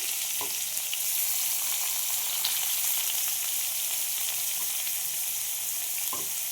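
Potato and chopped onion fry together in a hot pan, a steady dense sizzle running throughout with a couple of brief clinks or scrapes, no voices.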